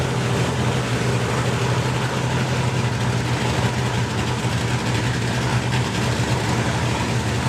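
A nitro-burning drag racing car idles at a drag strip event, its engine a steady, loud, close rumble that holds for several seconds with no talking over it.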